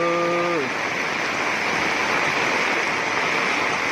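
Heavy rain pours down in a dense, constant roar, with a brief tonal sound fading out at the very start.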